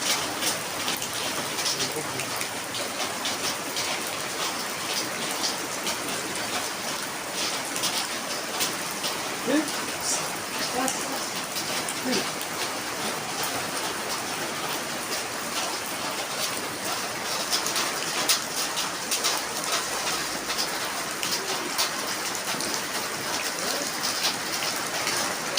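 Heavy rain pours steadily during Typhoon Paeng in 2022, a dense, continuous hiss of drops on surfaces lasting throughout, with gusty wind and no clear speech.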